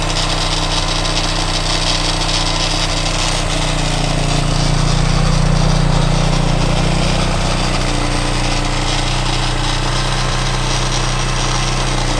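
A Ctx200 frame fitted with a swapped-in 230 engine idles steadily and close by, a constant low rumble that holds even throughout with no revving and no talk.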